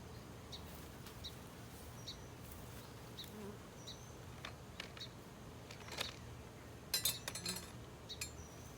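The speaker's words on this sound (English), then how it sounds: "Can y'all see the bee?" Honey bees buzz near a hive during an early-June inspection, thin and faint over a low ambient hum, with a few brief clinks near the end.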